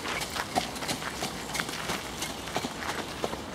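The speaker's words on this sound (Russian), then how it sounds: "И лошадка, вот лошадка катает посетителей, две лошадки катают посетителей." Two horses giving rides to visitors in a palace park walk past, their hooves clip-clopping in a steady irregular rhythm at moderate distance over outdoor ambience, with no talk.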